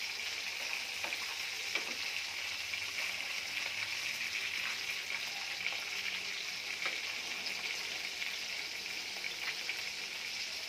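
Pieces of fish frying in hot oil give a steady, close sizzle that runs unbroken throughout, with faint crackles and a few light clicks from a utensil.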